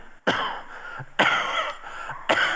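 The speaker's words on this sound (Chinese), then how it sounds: "然后呢有咳嗽" Three harsh, chesty coughs, each a loud, close burst followed by a short rasping tail, evenly spaced about a second apart.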